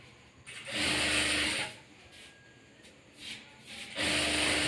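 A sewing machine stitches a folded strip of blouse fabric while a sleeve is attached, running in bursts: a long run of about a second, a brief spurt, then another steady run, close and fairly loud.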